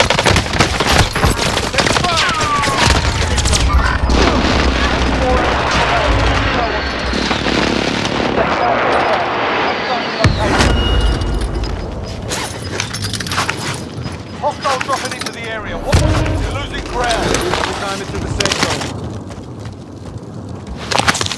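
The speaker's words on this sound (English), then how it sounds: "Be advised, friendly precision airstrike." Friendly precision airstrike explosions in a combat video game, a dense loud barrage of blasts and gunfire with low booms, continuous for most of the stretch, while voices talk over the action.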